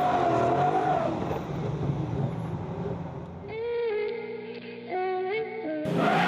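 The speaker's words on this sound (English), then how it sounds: "launches off the line and tries to get all 600 horsepower to the ground, reaching over 130 kilometers an hour" A 600-horsepower V8 Nissan PS13 drift car launches from the line, the engine roaring under load before revving hard in sharp rising bursts, loud and close.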